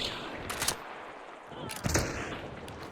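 Alamo gun shots in the video game Hunt Showdown, two sharp loud reports about a second apart against a steady wash of game ambience.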